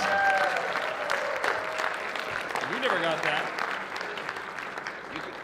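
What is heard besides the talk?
audience applause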